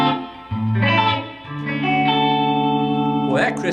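Electric guitar with its bright switch engaged, strummed chords ringing with a crisp, effects-laden tone, sustaining loudly and alone for a few seconds.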